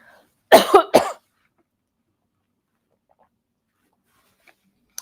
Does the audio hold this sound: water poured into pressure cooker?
no